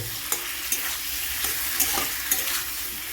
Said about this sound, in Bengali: এবার আঁচটা কমিয়ে একটু জাস্ট 1 মিনিটের মতন একটু নাড়াঝাড়া করবো